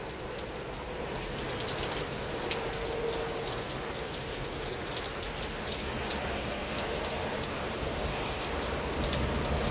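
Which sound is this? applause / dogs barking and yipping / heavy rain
heavy rain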